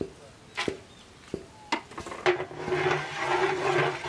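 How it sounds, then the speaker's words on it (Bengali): Pulao rice frying in oil in a pot with cardamom and bay leaf, cooked by a village grandfather: a few sharp spoon clanks at first, then a steady, close sizzle that swells and holds as the rice is stirred. "চালটা সুন্দর করে ভাজে নাও"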